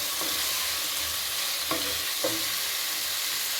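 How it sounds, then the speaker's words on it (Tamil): Half a kilo of chicken stir-fries in a pan for a curry, with a constant close sizzle and a few soft scraping stirs of the spoon. "சிக்கனை நல்லா வதக்கிக்கணும்."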